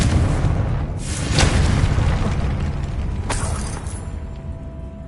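A Confringo blasting curse goes off in a video game, with a heavy blast near the one-second mark and a sharper burst later, both over a dense, continuous roaring rumble.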